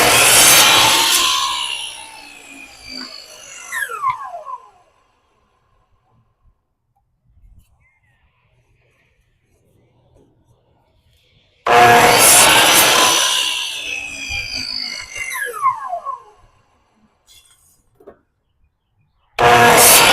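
Sawing through a piece being trimmed for a gate lamp bracket, in two long rasping bursts of a few seconds each separated by silence, with a third burst starting at the end; close and loud.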